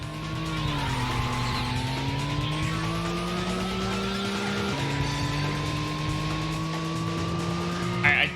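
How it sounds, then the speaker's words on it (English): A car engine in the racing video game Racing Lagoon drones steadily and loudly, its pitch rising slowly as it revs and dipping once at a gear change, with no voices over it. "I do really like how this engine sounds"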